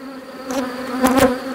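Honeybees buzz at a weak hive being brushed, a close steady drone with a few louder passing buzzes as individual bees fly near.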